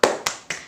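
Three sharp claps or taps, evenly spaced and close, from a classroom clapping chant.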